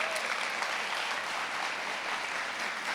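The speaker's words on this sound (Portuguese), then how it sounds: "Vamos aplaudir o nosso Padre Jonas" A church gathering applauds Padre Jonas, a brief wash of clapping heard fairly faint and distant, holding steady with no voices on top.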